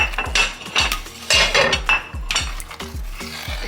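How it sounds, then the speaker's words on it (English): A metal spoon scrapes and clinks against a pot while chicken sauce is scooped in for jollof rice, in a steady rhythm of about a dozen close, bright knocks and scrapes with no talk. "So here I'm going to scoop some of the sauce into this pot."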